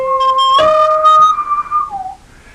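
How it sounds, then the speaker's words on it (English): A whistled movie melody built on a minor third, a clear solo whistle holding steady tones that leap, sustain, then slide down at the end, loud and close with no talk. "But that whistle is a key part of that movie, and it is all centered around the minor third."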